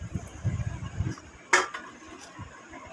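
A spoon stirs spicy Kathiyawadi masala khichdi with peanuts in a pot, making soft, low scraping and swishing at first, then a single bright clink against the rim, close and fairly quiet.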